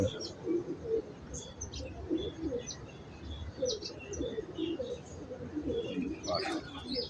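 Soft Manj pigeon coos repeat at a gentle rhythm, with faint bird chirps and a little background noise; a voice briefly sounds near the end.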